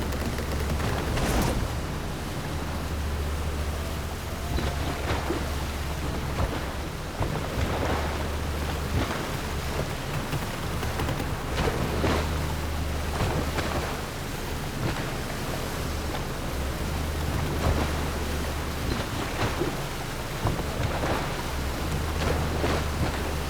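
A boat sails over water in Horizon Burning Shores, a steady wash of water and wind with a low engine-like drone underneath and occasional louder splashes, continuous and unbroken, with no talking.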